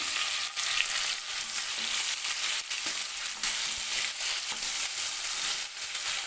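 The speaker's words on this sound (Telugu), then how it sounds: "ఇందులో ఇప్పుడు ఆనియన్స్ వేసుకుందాం ఆనియన్స్ బాగా వేగాలి" Onions fry in oil for egg biryani with a continuous, fairly quiet crackling sizzle, broken by occasional short stirring clicks and no voices.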